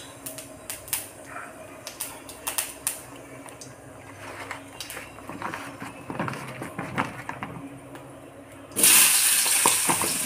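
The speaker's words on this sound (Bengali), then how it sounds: "এর মধ্যে একটু 5 ফোড়ন দিয়ে দিলাম" Panch phoron spices spit and crackle in hot oil darkened from frying pointed gourd, with close, irregular sharp pops over a low sizzle, ending in a sudden louder burst of hissing.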